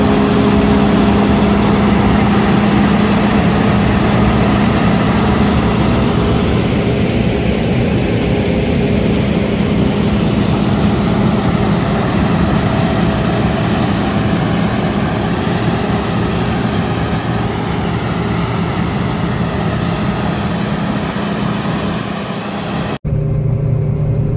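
A tractor engine idles steadily and loudly through a night wheat harvest in the field, a continuous droning rumble that holds for the whole stretch before cutting off abruptly near the end.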